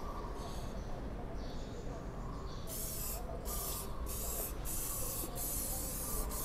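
A chemical car care product is sprayed onto an Isuzu D-Max in several short hissing bursts in the second half, over a low background rumble and someone talking.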